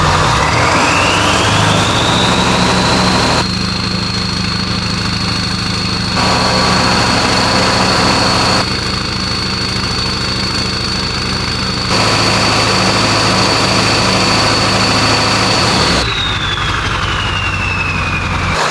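A Ford 7.3L Powerstroke diesel engine idles steadily after a high-pressure oil pump install, a loud, continuous low rumble with a high whine on top, running alone without talk for the whole stretch.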